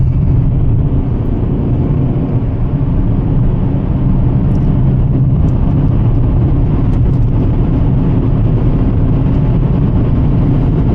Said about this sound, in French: Là je suis moitié de pédale et vous voyez on prend vraiment de la vitesse très facilement.